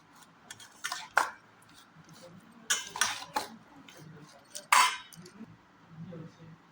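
Batter being stirred and mixed in a bowl for homemade Odia tola bhaja fritters, with several clinking scrapes of a spoon against the bowl in short bursts at close range, faint background noise between strokes.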